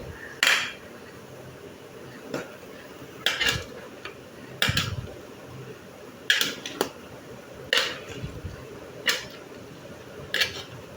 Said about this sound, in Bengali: এখন ঢাকনা খুলে